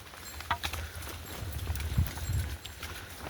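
Hooves of Konkan Gidda cows clop along a path in an uneven walking rhythm, fairly faint, with soft outdoor background noise in rainy weather.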